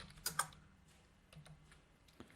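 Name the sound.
typing code on computer keyboard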